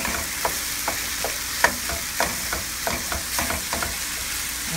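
Minced garlic frying in a pan for homemade spaghetti sauce, a continuous sizzle broken by repeated spoon scrapes and taps as it gets stirred, close up and with no voices.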